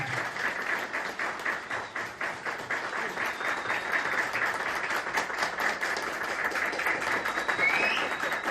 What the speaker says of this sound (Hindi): मैं चाहूंगा उनके लिए एक बार जोरदार ताली